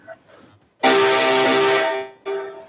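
An electronic buzzer at a school quiz competition sounds loudly once for about a second, followed after a short pause by a second brief burst, in a quiet hall.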